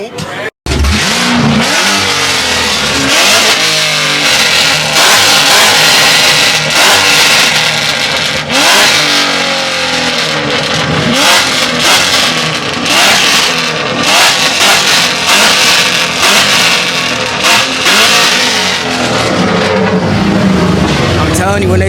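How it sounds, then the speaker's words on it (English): A car engine revs hard and loudly at a 7-Eleven free Slurpee car meet, with repeated roaring surges and crackle close to the listener over about twenty seconds, while people talk and shout nearby. "This engine very stupid."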